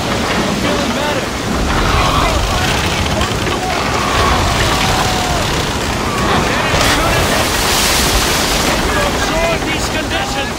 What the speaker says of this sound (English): Those are 20-foot waves on there!